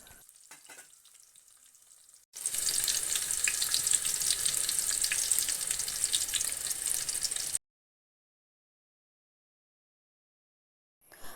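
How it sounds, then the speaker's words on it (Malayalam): Shallots and curry leaves frying in hot oil in a pan, a steady, loud close-up sizzle that starts suddenly and runs for about five seconds, then cuts to silence, with faint kitchen clatter before it. "ഇനി നമ്മളൊരു ചട്ടി വെച്ചിട്ട് കുറച്ച് ചെറിയുള്ളി, കറിവേപ്പിലിട്ട് മൂപ്പിച്ചെടുക്കാൻ പോവാണ്."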